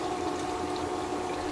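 Water runs steadily through a GOLDROP elutriation gold separator, making a constant close pouring and gurgling flow with no pauses or talk.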